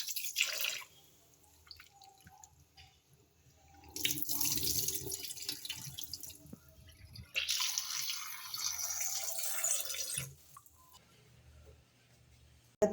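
Running water splashes and drips in bursts as onions are rinsed in salted water, with two loud spells of flowing water separated by quieter trickling, close up.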